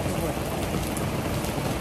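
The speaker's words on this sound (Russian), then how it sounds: "Но я очень рада дождику." Steady rain in Valencia patters on a surface, a dense even hiss with faint voices mixed in underneath.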